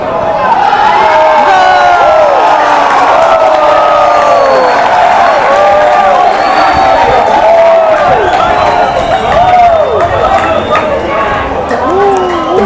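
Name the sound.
crowd applauding and cheering while watching the World Cup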